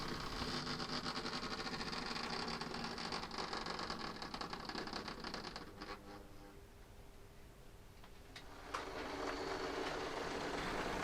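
An OO gauge model train rolls along a Cornish layout with a continuous rumbling, clicking run that eases slightly midway, then picks up again. No talking.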